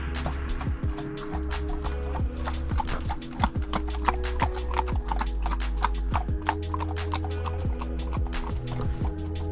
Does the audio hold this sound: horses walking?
yes